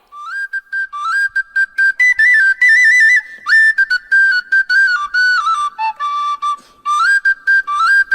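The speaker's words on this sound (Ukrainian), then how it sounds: "то хлопець на сопілці грає" A high, breathy sopilka, a Ukrainian folk flute, plays a lively melody in short phrases with frequent pauses, bright and close, with nothing else heard.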